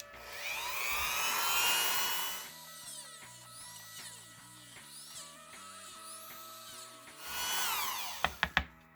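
A small power tool whines at high speed as it cuts a dish around a ball socket opening in a custom action figure head, loud bursts at the start and end with a quieter stretch between and a few sharp clicks at the close.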